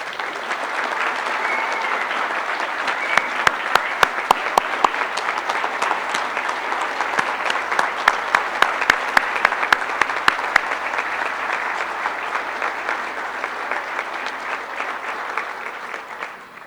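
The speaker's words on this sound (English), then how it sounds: "Let's give our 2017 Hall of Fame class one more round of applause." A crowd at the National Softball Hall of Fame induction ceremony applauds steadily for the inductees, a sustained roar of clapping with a run of sharp close claps in the middle before it fades.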